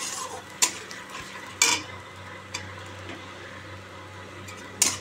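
Spoon scrapes and clinks against a pan as water, turmeric and salt are stirred and sautéed, a few sharp knocks over a low, steady background hum.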